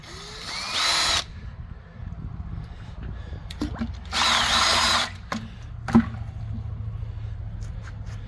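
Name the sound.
drill mixer mixing floor coating and hardener in bucket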